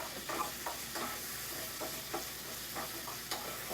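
Ground beef sauteing in olive oil sizzles steadily at low volume while a spoon breaks it up, giving soft repeated scraping strokes over the frying hiss.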